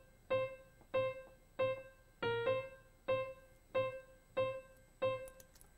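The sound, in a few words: piano without any effects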